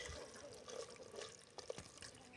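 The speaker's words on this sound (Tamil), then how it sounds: "அதான் தண்ணி ஊற்றிக்கிறேன்." Water is poured into a pot of village-style chicken curry on an outdoor stove, giving a faint, continuous trickle and splash under low background noise with no voices.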